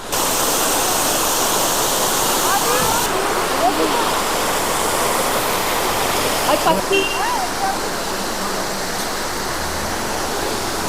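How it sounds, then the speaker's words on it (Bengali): Mandakini waterfall in East Sikkim roars in a loud, steady, broadband rush of falling water that fills the whole scene, with faint voices barely audible beneath it. "এই হচ্ছে মন্দাকিনী ফলস।"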